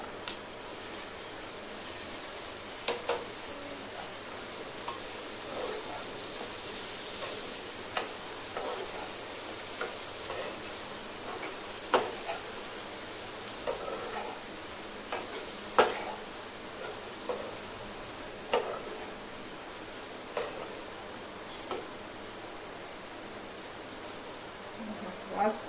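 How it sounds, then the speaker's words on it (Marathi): Potato cubes fry with dried shrimp and raw mango in a pan, a soft continuous sizzle punctuated by scraping stirs and clinks of a spoon at irregular intervals, close-up and fairly quiet. "मिक्स करून झालं की आता आपल्याला त्याच्यामध्ये हा बटाटा घालायचा"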